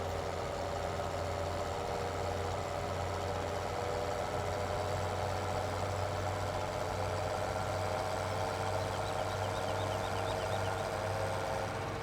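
A Fendt 700 tractor idles steadily in Farming Simulator 17, a continuous low engine drone holding even and unbroken throughout with no one speaking.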